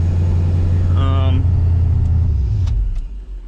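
A supercharged LSA V8 in a Mustang idles with a steady low rumble, warmed up at 191 degrees coolant, while a person talks briefly over it and a few faint clicks sound toward the end.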